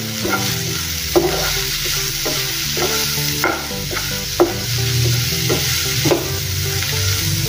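A tomato and dal mixture sizzles loudly in a pan while a spoon scrapes through it in regular strokes about once a second, close up, over a low steady background hum.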